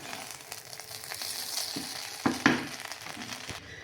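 Beef biryani is stirred in a pot over a steady low sizzle, with a couple of sharper scrapes and knocks from the spoon against the pot, close and without voices.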